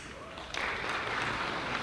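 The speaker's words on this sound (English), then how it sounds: "If you can please hold your applause, it would be great." Applause at a school moving-up ceremony for students of JFK school in East Islip, a soft, distant wash of clapping from the audience that rises abruptly midway and continues evenly.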